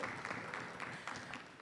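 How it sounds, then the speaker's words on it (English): Audience at a parenting talk claps in a brief, moderately distant burst of applause, with scattered individual claps layered over a steady patter. "Yes, we can clap for that."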